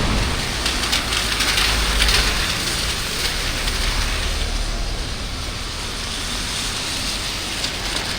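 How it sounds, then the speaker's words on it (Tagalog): Steady, continuous rain falls by the Marikina River with a dense, even hiss, with no letup and no voices. "Kasi tuloy-tuloy po ang ulan."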